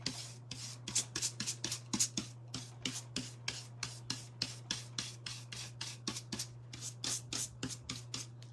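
Sandpaper rubbed back and forth along the edges of a hand-cut wooden craft piece, a steady run of short, close scratchy strokes over a constant low hum, with no talk.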